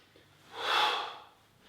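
A single forceful breath pushed out during qi gong practice, a soft breathy exhale swelling and fading over about a second, close and fairly quiet.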